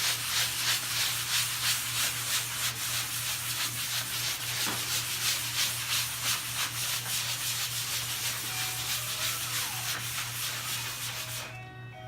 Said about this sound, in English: So I just like to take it and buff the piece out.